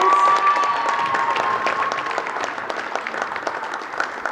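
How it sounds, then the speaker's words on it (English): Crowd applauds senior captains at a high school girls' varsity basketball game, a broad wash of clapping in a gym, with a sustained tone fading out early, continuing evenly to the end. "Now let's have one more round of applause for our amazing senior basketball captains."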